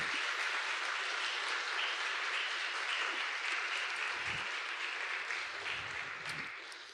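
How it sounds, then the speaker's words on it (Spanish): Steady, dense applause from a large church congregation, sustained throughout and gradually easing toward the end, with no voices on top. "Den un gran aplauso al Señor."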